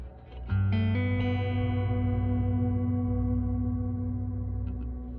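A sustained played note held by the hold modifier on a Meris Mercury X reverb pedal, struck after a brief lead-in and ringing with a lush, even tail that slowly fades over several seconds, alone.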